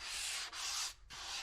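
Drywall plaster is hand sanded in three steady, close rasping strokes, each separated by a brief pause, with no one speaking.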